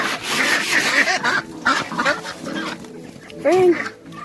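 Farm ducks at feeding time, quacking and chattering close by in quick, overlapping calls, with one louder quack near the end and a person's voice mixed in.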